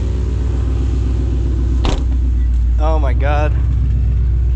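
A 2008 Ford Mustang GT V8 idles with a deep steady rumble after a 6R80 transmission swap, loud and close, with a brief clank and someone speaking over it.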